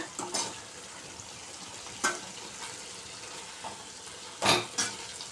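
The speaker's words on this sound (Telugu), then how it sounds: "అలా తిప్పుకోవాలి ఒకసారి దానికి మసాలా అంతా పట్టేలాగా" Egg tomato curry being stirred and fried in a pan, a low steady sizzle broken by a few scraping spoon strokes, the loudest near the end.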